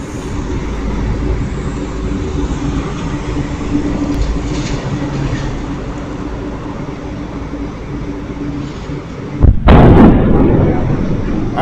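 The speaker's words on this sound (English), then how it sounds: "You'll hear the bang." A missile explosion near Tel Aviv airport, captured by a camera there, lands as a single sharp boom late in the recording after a long stretch of loud, steady rumbling noise.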